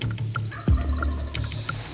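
A wild turkey gobbles nearby in a hunting field, one loud rattling gobble surrounded by softer calls and clucks.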